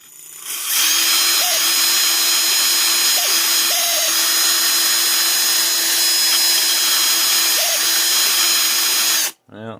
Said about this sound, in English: It sounds like the brushes are going in my drill.